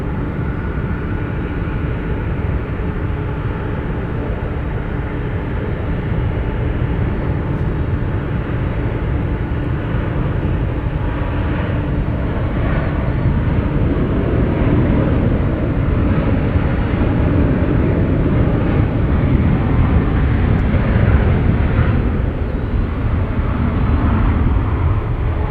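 Heavy jet airliners, including a 787 and a 777, taxiing toward the 28 runways at San Francisco airport, a steady broad engine rumble holding loud and continuous throughout with a slight swell near the end.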